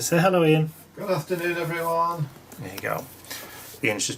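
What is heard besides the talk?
No everyday noise stands out behind the speech.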